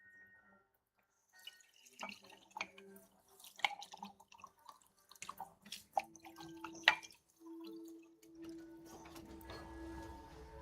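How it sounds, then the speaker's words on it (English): A paint water cup is rinsed under a tap: splashes and drips of water come at irregular moments, then water runs in a steadier stream, all fairly faint with no speech. "I gotta rinse out my paint cup."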